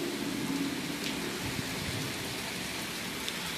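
Heavy rain pours down steadily on a stormy night, a dense, continuous hiss of drops on surfaces with a few louder spatters, no voices over it.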